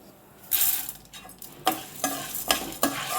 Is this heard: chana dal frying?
yes